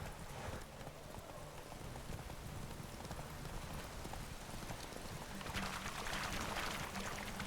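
Horse hooves clip-clop at a steady trot through the whole stretch in Witcher 3, a continuous rhythmic beat under ambient game sound, growing slightly louder toward the end.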